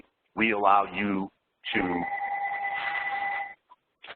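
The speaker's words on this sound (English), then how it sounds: "I got my home phone ringing right now" A home telephone rings with a steady electronic tone lasting nearly two seconds, right after someone speaks briefly, followed by a short chirp.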